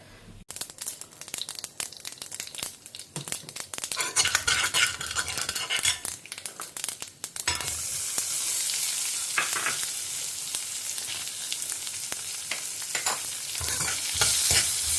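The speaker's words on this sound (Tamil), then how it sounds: "இது பொரியட்டும்." Curry leaves and tempering spices sizzle in hot oil in a pan for coconut milk rasam, with a spoon scraping and stirring in sharp clatters before a steady loud fry takes over.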